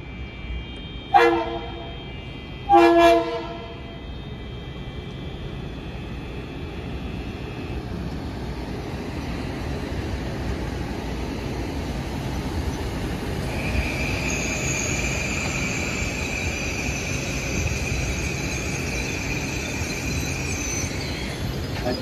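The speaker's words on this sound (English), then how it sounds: "please be advised that the next train departing on track 2 is the Amtrak train" An Amtrak train at New Haven station sounds two loud, short horn blasts, followed by a long rolling rumble of railcars and a high wheel squeal building later.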